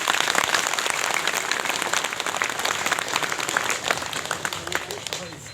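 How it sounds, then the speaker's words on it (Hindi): Audience applause for Comrade Madhav Nepal at a political gathering, dense continuous clapping from a crowd with a voice speaking over it. "सब पूरा ताली बजा कर उनका बधाई दी"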